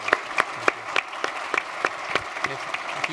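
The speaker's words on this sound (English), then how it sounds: "A round of applause, please." Sparse clapping for guests at an event with Chancellor Betty Rosa, individual claps landing in a loose rhythm of roughly a dozen distinct strikes, with quiet speech faintly underneath.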